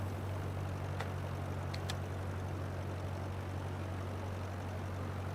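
A small aircraft descends with its engine throttled back for landing, a steady low droning hum held evenly throughout, with a couple of faint brief clicks early on and no talk.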